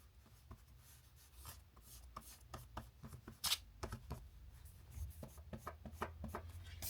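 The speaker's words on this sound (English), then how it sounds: "now I'll just quickly erase." A pencil eraser rubs across the paper of a commonplace book page in quick, close, faint scrubbing strokes, an irregular run of short scratchy bursts.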